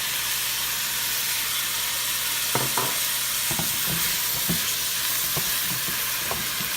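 A can of diced tomatoes with their juice goes into a hot pot for shrimp perlo, giving a steady, loud hissing sizzle with a few scattered knocks and scrapes of a utensil against the pot.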